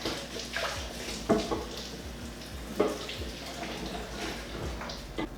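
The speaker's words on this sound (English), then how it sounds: "Give our cutting board a rinse." Water runs steadily as a cutting board is rinsed at a kitchen sink, with a couple of louder splashes and knocks as the board shifts under the stream.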